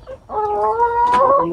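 A laying hen on a small farm gives a drawn-out, nasal cluck that rises into a sustained call, loud and near, with no voices.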